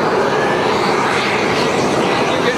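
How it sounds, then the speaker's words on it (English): A model F-15 Eagle jet aircraft roars past at a model air show, a loud, continuous, broadband turbine rush filling the whole moment. "A marvellous F-15 Eagle goes off there like that. Makes a lovely noise."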